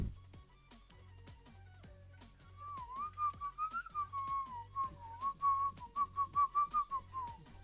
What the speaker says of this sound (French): je vais vous péter les oreilles en sifflant